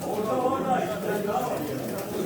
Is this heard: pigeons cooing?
yes